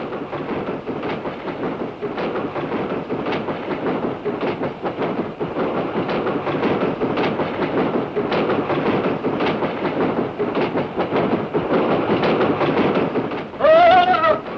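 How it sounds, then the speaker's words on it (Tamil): Steady rumbling rattle of a moving train carriage, loud and continuous, with repeated clattering jolts and a brief squeal near the end. "ரயில் பெட்டி ஒரே ஜோல்டி, அதாவது ஆட்டம்"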